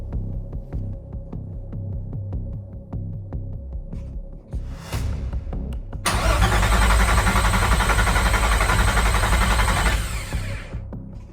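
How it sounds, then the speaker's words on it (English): A VR6 3.2 engine in a Volkswagen Caddy MK1, not started for a while and running on fresh oil and a new battery, rhythmically cranks over with a throbbing hum, then a louder, steadier roaring burst of cranking before it stops. "So that's a good sign, the engine's cranking over."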